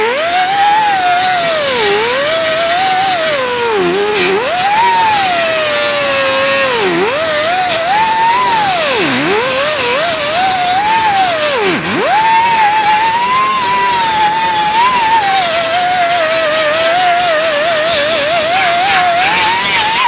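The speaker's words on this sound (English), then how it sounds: "that's the majority of the grinding" Power grinder and sander working a 1956 Chevy fender during bodywork, a continuous loud whine that rises and dips in pitch as the tool loads against the metal, steady and close with no talk.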